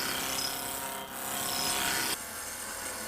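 A large woodturning tool cuts wood on a lathe with a loud, steady rasping scrape that dips briefly, swells again, then drops to a softer rubbing sound near the end.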